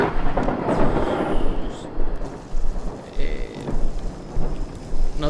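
Steady rain with low rumbling thunder heard from indoors, forming a continuous noisy wash with recurring swells and faint thuds underneath.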